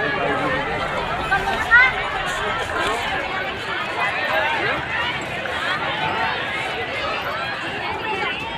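A dense crowd of pilgrims at the Ganga bathing fair in Daranagar Ganj, a steady outdoor hubbub of many voices, shuffling feet and movement close by.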